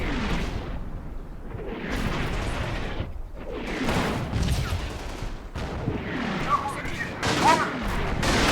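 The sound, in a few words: BAR rifle gunfire in Combat Mission video game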